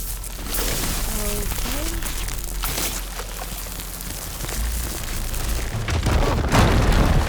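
Fire gleam blowing up in the video game Horizon Forbidden West: a dense, rumbling boom with crackling debris that swells late, heard over a steady game ambience with a voice speaking earlier.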